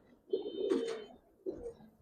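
A pair of Giribaz or coloured pigeons on a rooftop coop gives two soft, close coos separated by a short pause against a quiet background.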